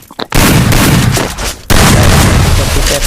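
Gunfire in the Free Fire video game: two loud, close blasts, each breaking into a sustained booming roar, with a faint voice just before the first.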